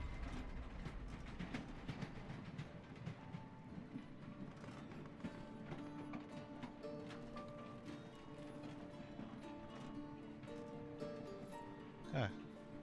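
Steady rumble and clatter of a moving train in the video game Voidtrain, with rhythmic mechanical clanks and a sharp metallic accent near the end.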